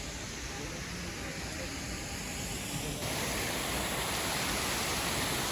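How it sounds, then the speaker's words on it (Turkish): A steady, broadband rush of falling water from Soğucak Waterfall in snow, constant and enveloping, growing slightly louder partway through. "şelalenin sesini duyuyorsunuz"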